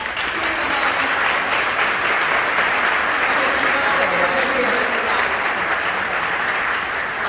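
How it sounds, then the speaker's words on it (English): Sustained applause from a crowd at an interior design awards gala, steady and full for several seconds, with no break in the clapping. "So please really give them a round of applause"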